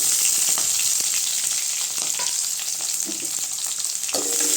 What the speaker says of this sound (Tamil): நல்லா கிண்டி விட்டுக்கோங்க வெங்காயம் நல்லா வதங்கி வச்சுங்க